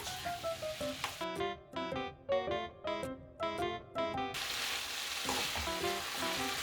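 Julienned potato strips stir-fried in a pan with a little salt and sugar for a crisp Korean side dish, sizzling steadily with repeated scraping stir strokes in a bursty rhythm, close and moderately loud.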